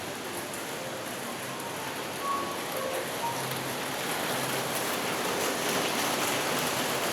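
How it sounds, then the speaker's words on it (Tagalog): Steady rain falling in a storm at Boracay, a dense even hiss of drops on surfaces that holds constant throughout with no voices. "Ay, ang ulan."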